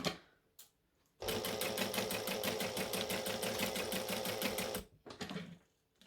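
A sewing machine stitches fabric for Christmas shorts in one steady run of fast, even mechanical chatter lasting several seconds, close and loud, framed by brief handling noises before and after.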